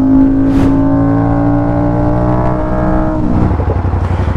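An Aprilia RS660 motorcycle engine running loud and close, a steady strong harmonic drone that rises in pitch, then drops and revs again near the end, with no voices.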